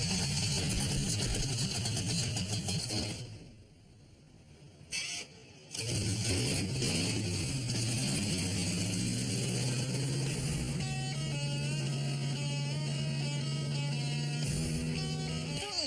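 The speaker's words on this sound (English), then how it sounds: "It starts and sounds like a beast." A Chevrolet Caprice engine cranks, catches and fires up, settling into a loud, steady rumbling idle with a rising rev, close by and alone after a brief quiet gap.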